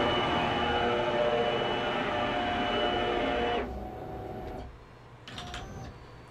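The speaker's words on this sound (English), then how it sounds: "Now we're going to home the machine and I'm going to drive it forward." A Onefinity CNC machine homes and drives forward with a steady, close motor whine and hum that runs continuously, then drops to a quieter tone before fading, with a few short high motor chirps near the end.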